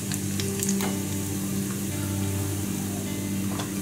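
Fenugreek seeds sizzling in hot oil for a Rajasthani-style raw mango chutney, a steady close crackling hiss that holds evenly throughout with a few brighter pops, over a low continuous hum.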